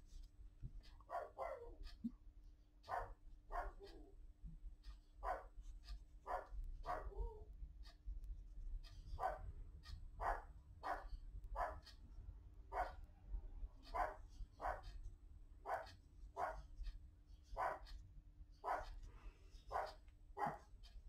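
An outdoor dog barks repeatedly in sharp, evenly spaced barks heard at moderate distance over a low steady hum, with a few brief voice sounds early on.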